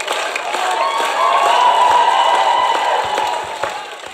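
Standing jury members clap and cheer in a sustained ovation, a thick wash of applause with occasional whoops that swells toward the middle and eases off near the end.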